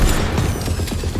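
Dense, continuous burst of gunfire from the video game Atomic Heart, loud and close with rapid crackling impacts and a heavy low rumble throughout the short stretch.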